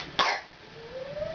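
A two-year-old toddler gives a single sharp cough after loud roaring, close and brief, followed by a small rising vocal sound.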